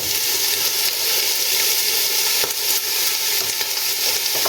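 Chopped capsicum sizzles loudly in hot oil with fried cumin, coriander and garam masala powder, giving a steady, close crackle and hiss with occasional stirring clicks and no talking.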